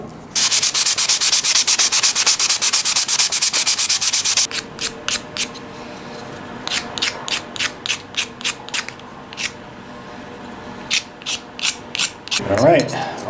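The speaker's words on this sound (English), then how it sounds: "So I'm going to get these sanded down, take off all the hard edges" Wooden dovetail toy blocks being sanded, first with a continuous close, loud rasping scrub, then with short separate strokes in uneven bursts and a brief knock near the end.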